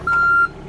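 A mini excavator's travel alarm gives a single sharp, steady beep lasting under half a second, close and loud over a faint idle hum.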